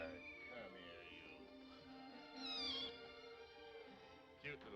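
Several cats meow in a 1953 film scene while lapping up milk, their mewing cries rising over a steady music-like background, with people talking faintly underneath.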